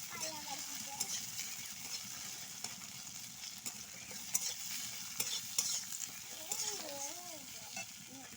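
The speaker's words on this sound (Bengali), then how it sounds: "ভালো করে নেড়ে নিব" Chopped onion frying with dried red chilli and ginger for a Malabar spinach stir-fry, stirred in a pan: a faint continuous sizzle with scraping strokes and light clinks, while a voice talks softly underneath.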